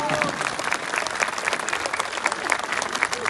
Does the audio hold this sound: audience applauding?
yes